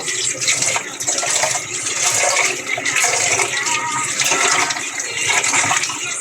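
Water runs steadily from a tap while rice is washed, a continuous close splashing gush with faint mid-range gurgles, loud and alone throughout.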